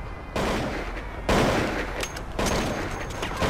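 Repeated bursts of gunfire during a firefight in the Mafia Kurtlar Vadisi video game, loud, dense volleys of shots rattling across the whole clip with no talk over them.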